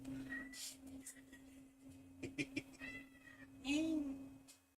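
A person imitates a cat with a drawn-out meow, mixed with cat-like mewing and brief chatter, against a steady low hum.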